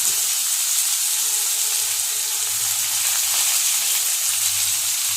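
Raw banana pieces fry in a pan, giving a continuous close sizzle and soft hiss with low bubbling underneath, steady throughout and free of any talking.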